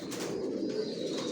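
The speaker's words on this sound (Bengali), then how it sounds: "এখানে যে কবুতরগুলো দেখতেছেন এগুলো মাস্টার পেয়ার" Racer pigeons coo softly and continuously inside a loft, a low steady murmur with no voices.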